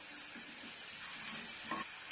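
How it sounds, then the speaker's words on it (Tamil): Quiet, steady sizzle of about ten garlic cloves frying in hot oil, with faint crackles and a small clatter near the end. "ஒரு 10 பல்லு பூண்டு போட்டு நல்லா வதக்கிக்கலாம்"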